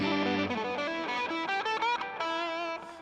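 An electric guitar played through a Foxcatcher overdrive pedal modeled after a Tube Screamer gives a lightly driven, sustained melodic line of several notes and bends, close and clear, with no talking over it.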